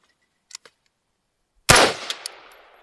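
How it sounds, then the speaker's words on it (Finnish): A Hera Arms 15th airsoft rifle fires a single loud, sharp shot after a couple of faint clicks, with the report ringing out and decaying briefly; no one speaks. "Ammutaan pari laukoista, niin saadaan vähän ensituntumaan,"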